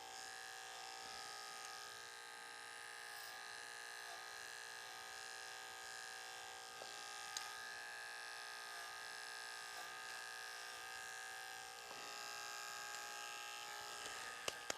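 Electric hair clippers with a metal blade buzz steadily while trimming hair around a customer's ear during a short Princeton-style haircut, a faint, continuous high whine with a few small clicks and no talking.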